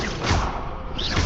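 An Expelliarmus spell cast in a video game: a dense, full-bodied magical burst with a thudding impact and a swishing rush, filling the whole moment loudly with no voices.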